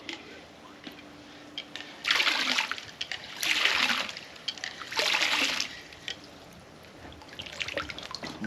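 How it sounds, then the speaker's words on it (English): Water from a pump being tested gushes into a stock tank in several strong bursts of splashing, each lasting about a second, with quieter trickling between them and no talk. "Make sure our pump's working."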